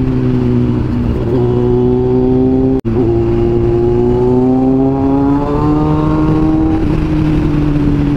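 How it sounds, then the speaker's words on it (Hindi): Steady mid-pitched drone of a superbike engine while riding, with rising harmonics as it gradually accelerates, loud and continuous with a brief cut near the middle and no talking. "पहली बार लेके जा रहा हूँ मैं अपनी सुपर बाइक"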